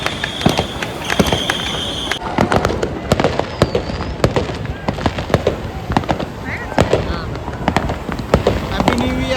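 New Year's Eve fireworks bursting in a rapid irregular barrage of loud sharp cracks and bangs, close and continuous, with people's voices mixed in.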